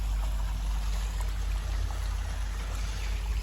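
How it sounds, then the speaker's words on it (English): A pump drains water from a household plumbing system, giving a steady low rumble with a continuous watery rush and trickle, constant and moderately faint, no talk. "So pump's on, just going to drain the water out."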